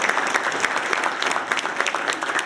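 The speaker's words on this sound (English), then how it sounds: "So give her a big round of applause" A lecture audience applauds Dr. Patricia Newton, lively crowd clapping with sharp individual claps standing out from the dense wash, fairly loud and close.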